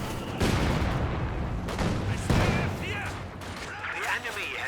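A mortar barrage in Company of Heroes 2 booms and crumps in a few heavy impacts amid battle noise, while a commentator talks over the action.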